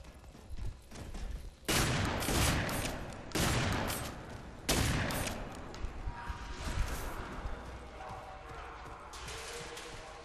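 Gunfire in the video game F.E.A.R. 3, with several loud, sharp bursts of automatic fire in the first five seconds, followed by sparser distant shots and clatter under faint background noise.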